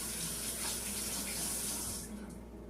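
Tap water runs in a steady, close stream for washing hands, then tapers off near the end. No one speaks.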